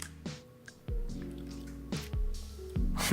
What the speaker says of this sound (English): So we're gonna put some of these oils in those cups.